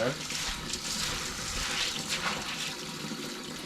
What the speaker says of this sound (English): Swish them and rinse them.